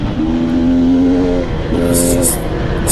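Engine of a 2022 KTM 300 XC-W two-stroke dirt bike revving hard during a hare scramble race, loud and close with two sustained high-pitched surges separated by a brief dip.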